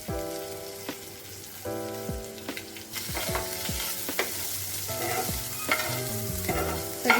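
Boiled potatoes being stirred into spiced oil in a pan for a cheese frankie filling, with steady frying sizzle and repeated scraping, clattering strokes of a spoon against the pan throughout.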